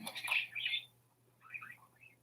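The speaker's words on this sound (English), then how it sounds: "my bird's on the desk eating potato chips, so you're going to hear some noises" A pet bird sitting on a desk and eating potato chips gives a few bright chirps and whistles, two quick calls near the start and a softer warbling pair later, close by over a low steady hum.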